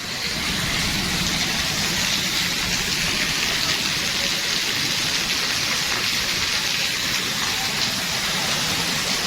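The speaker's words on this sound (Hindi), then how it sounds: "देखिए मेरे पीछे कितनी ज्यादा बारिश हो रही है" Steady, dense monsoon rainfall pours down over farmland in heavy torrents with a constant wideband hiss and a low rumble underneath, unbroken throughout.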